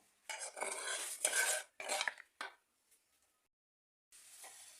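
Beetroot and liver salad ingredients tipped into a bowl: a rattling, scraping tumble of food against the dish in a few bursts, close and clear, then a pause and a softer final scrape, with no talking.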